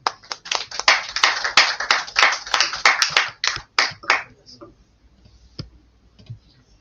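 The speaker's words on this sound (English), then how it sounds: "Please welcome him with a round of applause" A small lecture audience at a Black History Month event claps to welcome a speaker: a run of sharp, distinct hand claps for about four seconds, then it thins to a few scattered taps and near silence.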